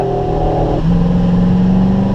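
A Corvette on the Spring Mountain race track pulls hard under heavy throttle, its engine a loud, close drone that shifts pitch partway through and keeps building, with no talking.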